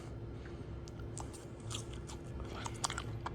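Crunching bites into crispy homemade air fryer french fries made from fresh potatoes, a run of close, sharp chewing crunches repeating steadily with no talking.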